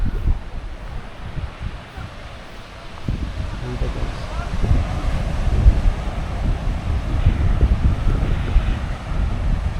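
Heavy surf rumbles and crashes continuously on Ba Tonying Beach, Northern Samar, Philippines, with strong wind buffeting the microphone, and a voice speaks briefly early on.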